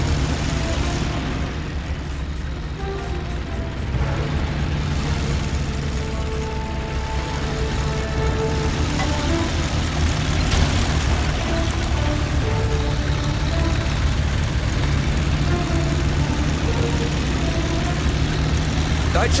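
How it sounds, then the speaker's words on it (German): A tank engine rumbles steadily at idle in a World War II strategy game, Men of War II, as a dense low drone that holds for the whole stretch under faint game ambience and brief voice lines. "Starten Sie den Motor!"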